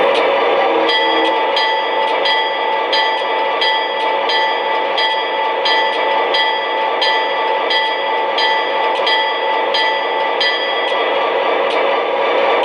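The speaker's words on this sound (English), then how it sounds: "And here's the sound of the bell." An MTH model Ohio Central GP40 locomotive bell rings in a steady, regular rhythm of clangs over a constant mechanical hum, loud and close throughout.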